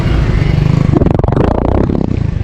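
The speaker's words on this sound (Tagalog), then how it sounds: "Nire-rev ko lang para marinig ninyo." A nearby 2025 Suzuki Smash 115 motorcycle engine revs up in quick pulses, throttle rising and falling over a rumbling idle.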